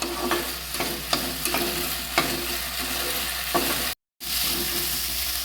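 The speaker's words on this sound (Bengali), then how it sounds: "এবার সব মশলা ভালো করে কষিয়ে নিতে হবে।" Spices stir-fried in a pan over a medium gas flame sizzle steadily, with a spatula scraping and clacking against the pan at irregular intervals; a brief dropout interrupts the sound near the end.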